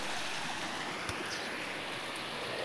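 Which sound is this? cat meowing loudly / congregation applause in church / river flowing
river flowing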